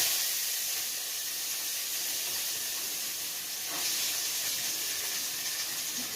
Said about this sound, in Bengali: এবার সবই ভাজতে হবে। হ্যাঁ সবই একটু ফ্রাই করতে হবে